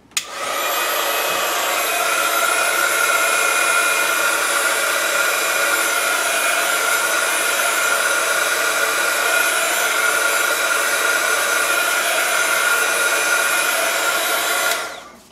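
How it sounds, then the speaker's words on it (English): Heat gun blowing on an embossed card to dry ink, a loud continuous whirring roar that starts abruptly and holds steady for about fifteen seconds before cutting off, with no voices. "I might put the heat gun on it just to make sure that the ink is dry."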